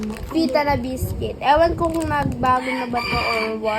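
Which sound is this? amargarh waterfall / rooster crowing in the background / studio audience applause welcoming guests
rooster crowing in the background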